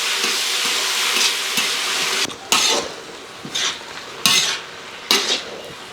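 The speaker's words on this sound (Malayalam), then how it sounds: "പയർ തോരൻ വെക്കാനായിട്ട് കടുക് വറക്കുക കേട്ടോ" Mustard seeds splutter and fry in a pan for a green gram thoran, a dense close hiss broken by a run of metal scrapes and clinks from stirring, with no voices over it.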